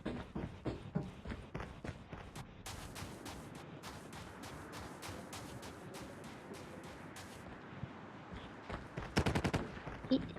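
Rapid bursts of gunfire in a team-based shooter video game, sharp cracking shots in quick clusters, with a louder volley near the end, heard faintly and without speech.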